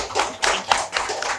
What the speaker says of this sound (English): let's give a round of applause to our awesome panelists